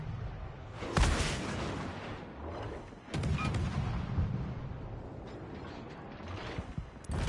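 A missile strikes its target in the naval battle game World of Warships Legends, with heavy booms and a continuous roar of gunfire and blasts, loud and dense throughout, with sharp impact peaks near the start and middle.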